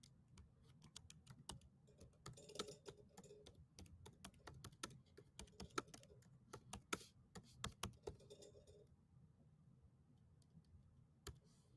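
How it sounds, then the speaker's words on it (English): Someone types on a computer keyboard at a steady, unhurried pace, close and fairly quiet, with sharp individual key clicks and no speech. "I'm not a fast typer like those women."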